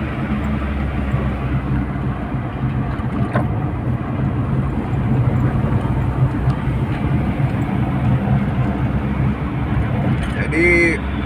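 A Toyota Starlet fitted with a TAC ignition system accelerates through city traffic, heard from inside as a steady, loud low engine and road rumble that continues without a break.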